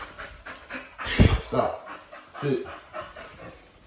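A new puppy pants and gives short barks and whimpers in bursts, loudest around the middle, while people nearby speak commands over it.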